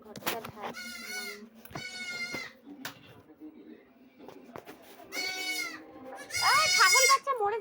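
A baby goat bleats several times in short, wavering cries, near and clear, with people talking in between and over the calls.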